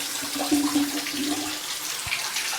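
Water flushing through a Hammerhead shower filter cartridge into a bathtub, a steady close rush of running water with small debris falling in.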